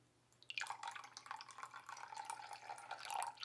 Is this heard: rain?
no